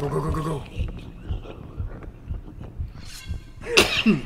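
A sneeze bursts out sharply near the end, following a stretch of quieter breathy and vocal sounds in a multiplayer horror game.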